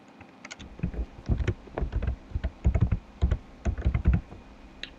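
Keystrokes on a computer keyboard as a short word is entered into a software dialog box, a quick irregular run of close, crisp taps with brief pauses between bursts, no talking.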